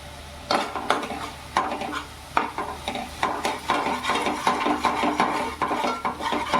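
Spices being stirred into okra in a pan for masala bhendi, with garlic, ginger, onion and curd; a spoon scrapes and clatters in repeated strokes over a steady frying sizzle, close and alone.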